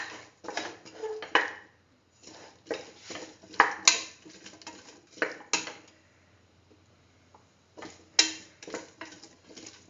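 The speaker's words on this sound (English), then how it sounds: "Mix the tomato pieces. Thoroughly mix." A spoon scrapes and clinks against a pot while tomato pieces are stirred for a split chickpea and chayote rice dish, in repeated irregular bursts of metallic tapping, close up with short pauses between strokes.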